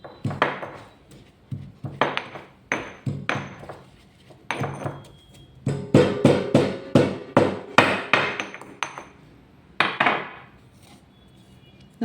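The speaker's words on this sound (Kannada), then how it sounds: "5-10 ನಿಮಿಷ ಈ ಥರ ಕುಟ್ಟಿದರೆ ತರಿಯಾಗಿ ಪುಡಿ ಆಗುತ್ತೆ" Roasted spices pounded by hand to a coarse powder, heavy thuds of a pestle striking in a steady rhythm of separate blows with brief pauses, close and loud.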